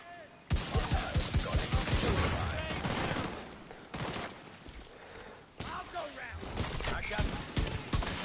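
Gunfire in The Division 2, played on PS5, comes as loud rapid automatic bursts in several separate volleys with brief gaps between them, and voices are mixed in.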